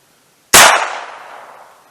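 A single sharp .22lr shot of Armscor 36 grain hollow point ammunition fired from a Heritage Barkeep revolver, loud and close, with a crisp crack and a brief decaying ring.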